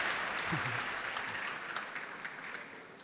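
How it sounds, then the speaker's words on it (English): A church audience gives a loud round of clapping during a sermon, a dense wash of hand claps that slowly fades, with a brief voice underneath at the start. "Come on, a louder clap for that."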